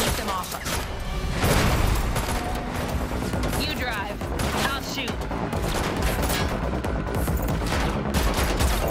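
Sustained volleys of video-game gunfire from the Unreal Engine 5 Matrix Awakens tech demo, loud and dense for the whole stretch, rapid overlapping shots with metallic clatter and impacts, and voices faintly mixed underneath.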